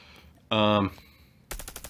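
M4 rifle fire in a video game: a loud, dense burst with a tonal ring near the start, then a rapid string of sharp repeated shots toward the end, with faint background between.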